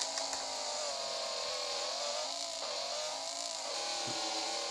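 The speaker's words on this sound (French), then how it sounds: "ça fait du bien quand même d'avoir une voiture qui fait du bruit" Simulated car engine from the Driving School 2020 video game, a big loud motor droning steadily and close with slight pitch shifts as the car turns, no voices over it.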